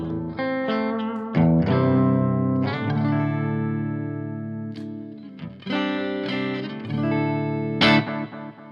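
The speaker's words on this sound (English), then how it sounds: "it's such a pleasing delay. I really like this delay pedal." Sustained distorted guitar chords played through a Boss Waza Craft delay pedal ring out with echoing repeats trailing behind each strum, fairly loud, no voices.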